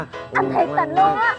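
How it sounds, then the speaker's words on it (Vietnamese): A dog barks and yips in a few sharp bursts at close range, overlapping with a person talking in Vietnamese in a home setting. "tại con chó nó sủa làm anh hết hồn"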